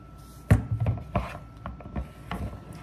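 Rotini pasta vegetable salad stirred quickly in a bowl, giving close, soft scraping and rubbing strokes of a utensil with a firmer thump at the start, with no voices.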